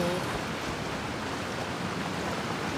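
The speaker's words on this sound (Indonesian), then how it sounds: "Air terjun nih." A waterfall in Genshin Impact's Sumeru region gives a steady, even rush of falling water, a continuous broad hiss at moderate level with no voices over it.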